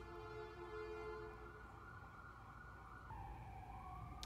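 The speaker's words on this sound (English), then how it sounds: "Sirens." Emergency vehicle sirens wail faintly in the distance, their tones holding steady and then dropping in pitch partway through, with no talk over them.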